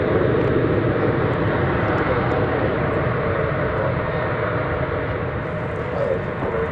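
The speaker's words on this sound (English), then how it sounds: "Here's American Airlines Flight 537 arriving from El Paso," An American Airlines Boeing 737-800 arriving at DFW Airport from El Paso roars continuously with loud, broad jet engine noise, steady from start to end and close by.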